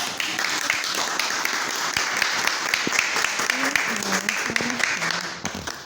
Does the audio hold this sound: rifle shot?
no